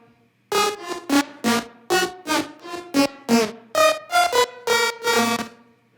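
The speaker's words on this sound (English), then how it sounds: "What this is doing is this is kind of creating a bit of a metallic sound" Rave lead synth in a high-octane tech house track, run through a metallic ping-pong stereo delay, playing a rhythmic series of bright, ringing stabs that bounce and echo one after another.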